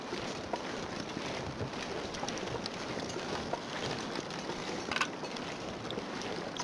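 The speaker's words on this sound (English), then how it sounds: "Oh, it's a waterfall." Steady broadband rush of a waterfall where a river comes down in the survival game The Long Dark, continuous and moderately loud, with small irregular splashy ticks throughout and no speech.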